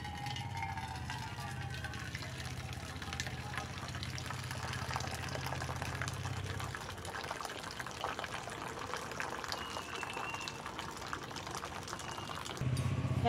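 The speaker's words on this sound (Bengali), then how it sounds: "আমি ভাতের ফ্যানটা এবার ঝরিয়ে নেব।" Starchy water drains from a pot of cooked rice in a steady, soft pouring wash that runs throughout, with a low bubbling rumble under the first half.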